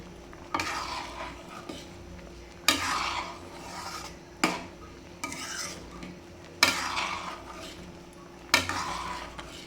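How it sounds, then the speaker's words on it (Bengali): Lentils and vegetables with turmeric being stirred in a pan: close, scraping strokes come in steady bursts about every two seconds, with no talking. "দেখি হলুদটা একটু নাড়িয়ে দেখি"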